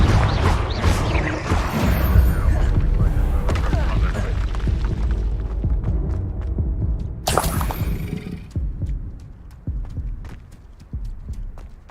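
Confringo fire spells blast in Hogwarts Legacy, played on hard mode, with heavy, booming explosions and shattering debris over the first several seconds, then a second burst, followed by quieter rumbling impacts.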